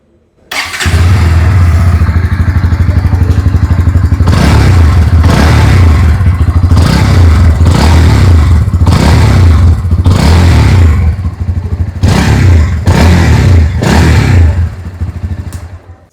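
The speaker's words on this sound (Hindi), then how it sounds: "पहले सुन लेते हैं NS160 की एग्जॉस्ट नोट।" A Bajaj Pulsar NS160 motorcycle engine starts and idles loudly, then is revved repeatedly in sharp bursts, the exhaust note rising and falling close by.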